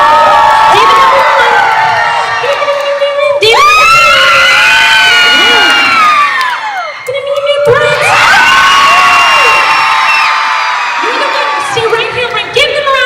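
A live audience at a San Diego meet-up shouts and screams in loud bursts of high, excited cheering, with whoops and children's shrieks. Two big swells are split by a short lull, and the sound stays close and intense throughout.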